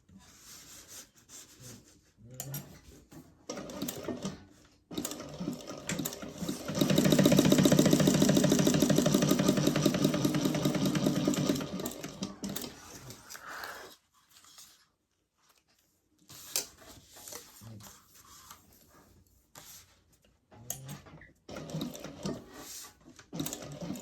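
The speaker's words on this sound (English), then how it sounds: "So we're going to sew up the sides." Sewing machine stitching up the sides of a pocket trim piece for a garment, a steady loud mechanical run of about five seconds set between quieter handling sounds and pauses.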